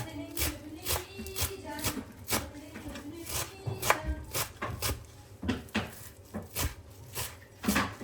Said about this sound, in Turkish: Maydanozlarımızı doğrayalım.